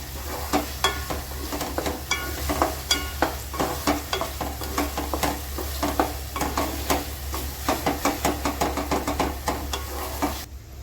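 Eggplant bharta being stirred in a frying pan, a steady run of soft scraping and clacking strokes over a low sizzle, close and fairly quiet, with no talking.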